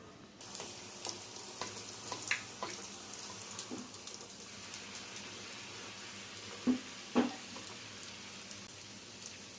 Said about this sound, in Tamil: நம்ம பட்டூரா போட்டதுக்கு அப்புறமா எண்ணெயை கொஞ்சம் மேலே இப்படி தெளிச்சு விட்டோம்னாக்கா இந்த மாதிரி பொங்கி வரும்